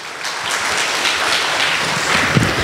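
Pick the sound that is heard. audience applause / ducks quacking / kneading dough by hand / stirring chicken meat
audience applause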